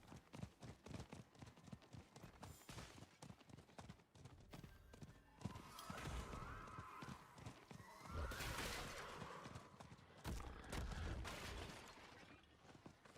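Horse hooves clip-clop at a steady galloping rhythm while riding a mount in a Diablo game (Lord of Hatred), with occasional neighs and bursts of combat noise layered over the hoofbeats.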